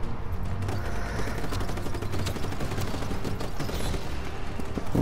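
Dense, continuous gunfire from a firefight in the open-world video game Just Cause 3, aimed at wind turbines, with rapid overlapping shots and mechanical clatter sustained loudly throughout.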